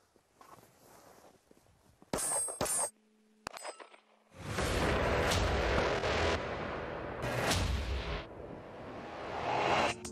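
Firearm shots fired at a black shooting target during handgun-safety practice: several sharp, loud bangs, the later ones crowding together into a dense, sustained roar of reports.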